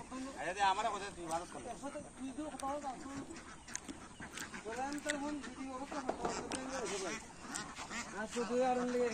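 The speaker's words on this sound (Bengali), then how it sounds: "অস্থায়ী হাঁসের ফার্ম।" A dense flock of about 1,100 ducks on a temporary duck farm quacks continuously and close by, with many overlapping calls rising and falling throughout.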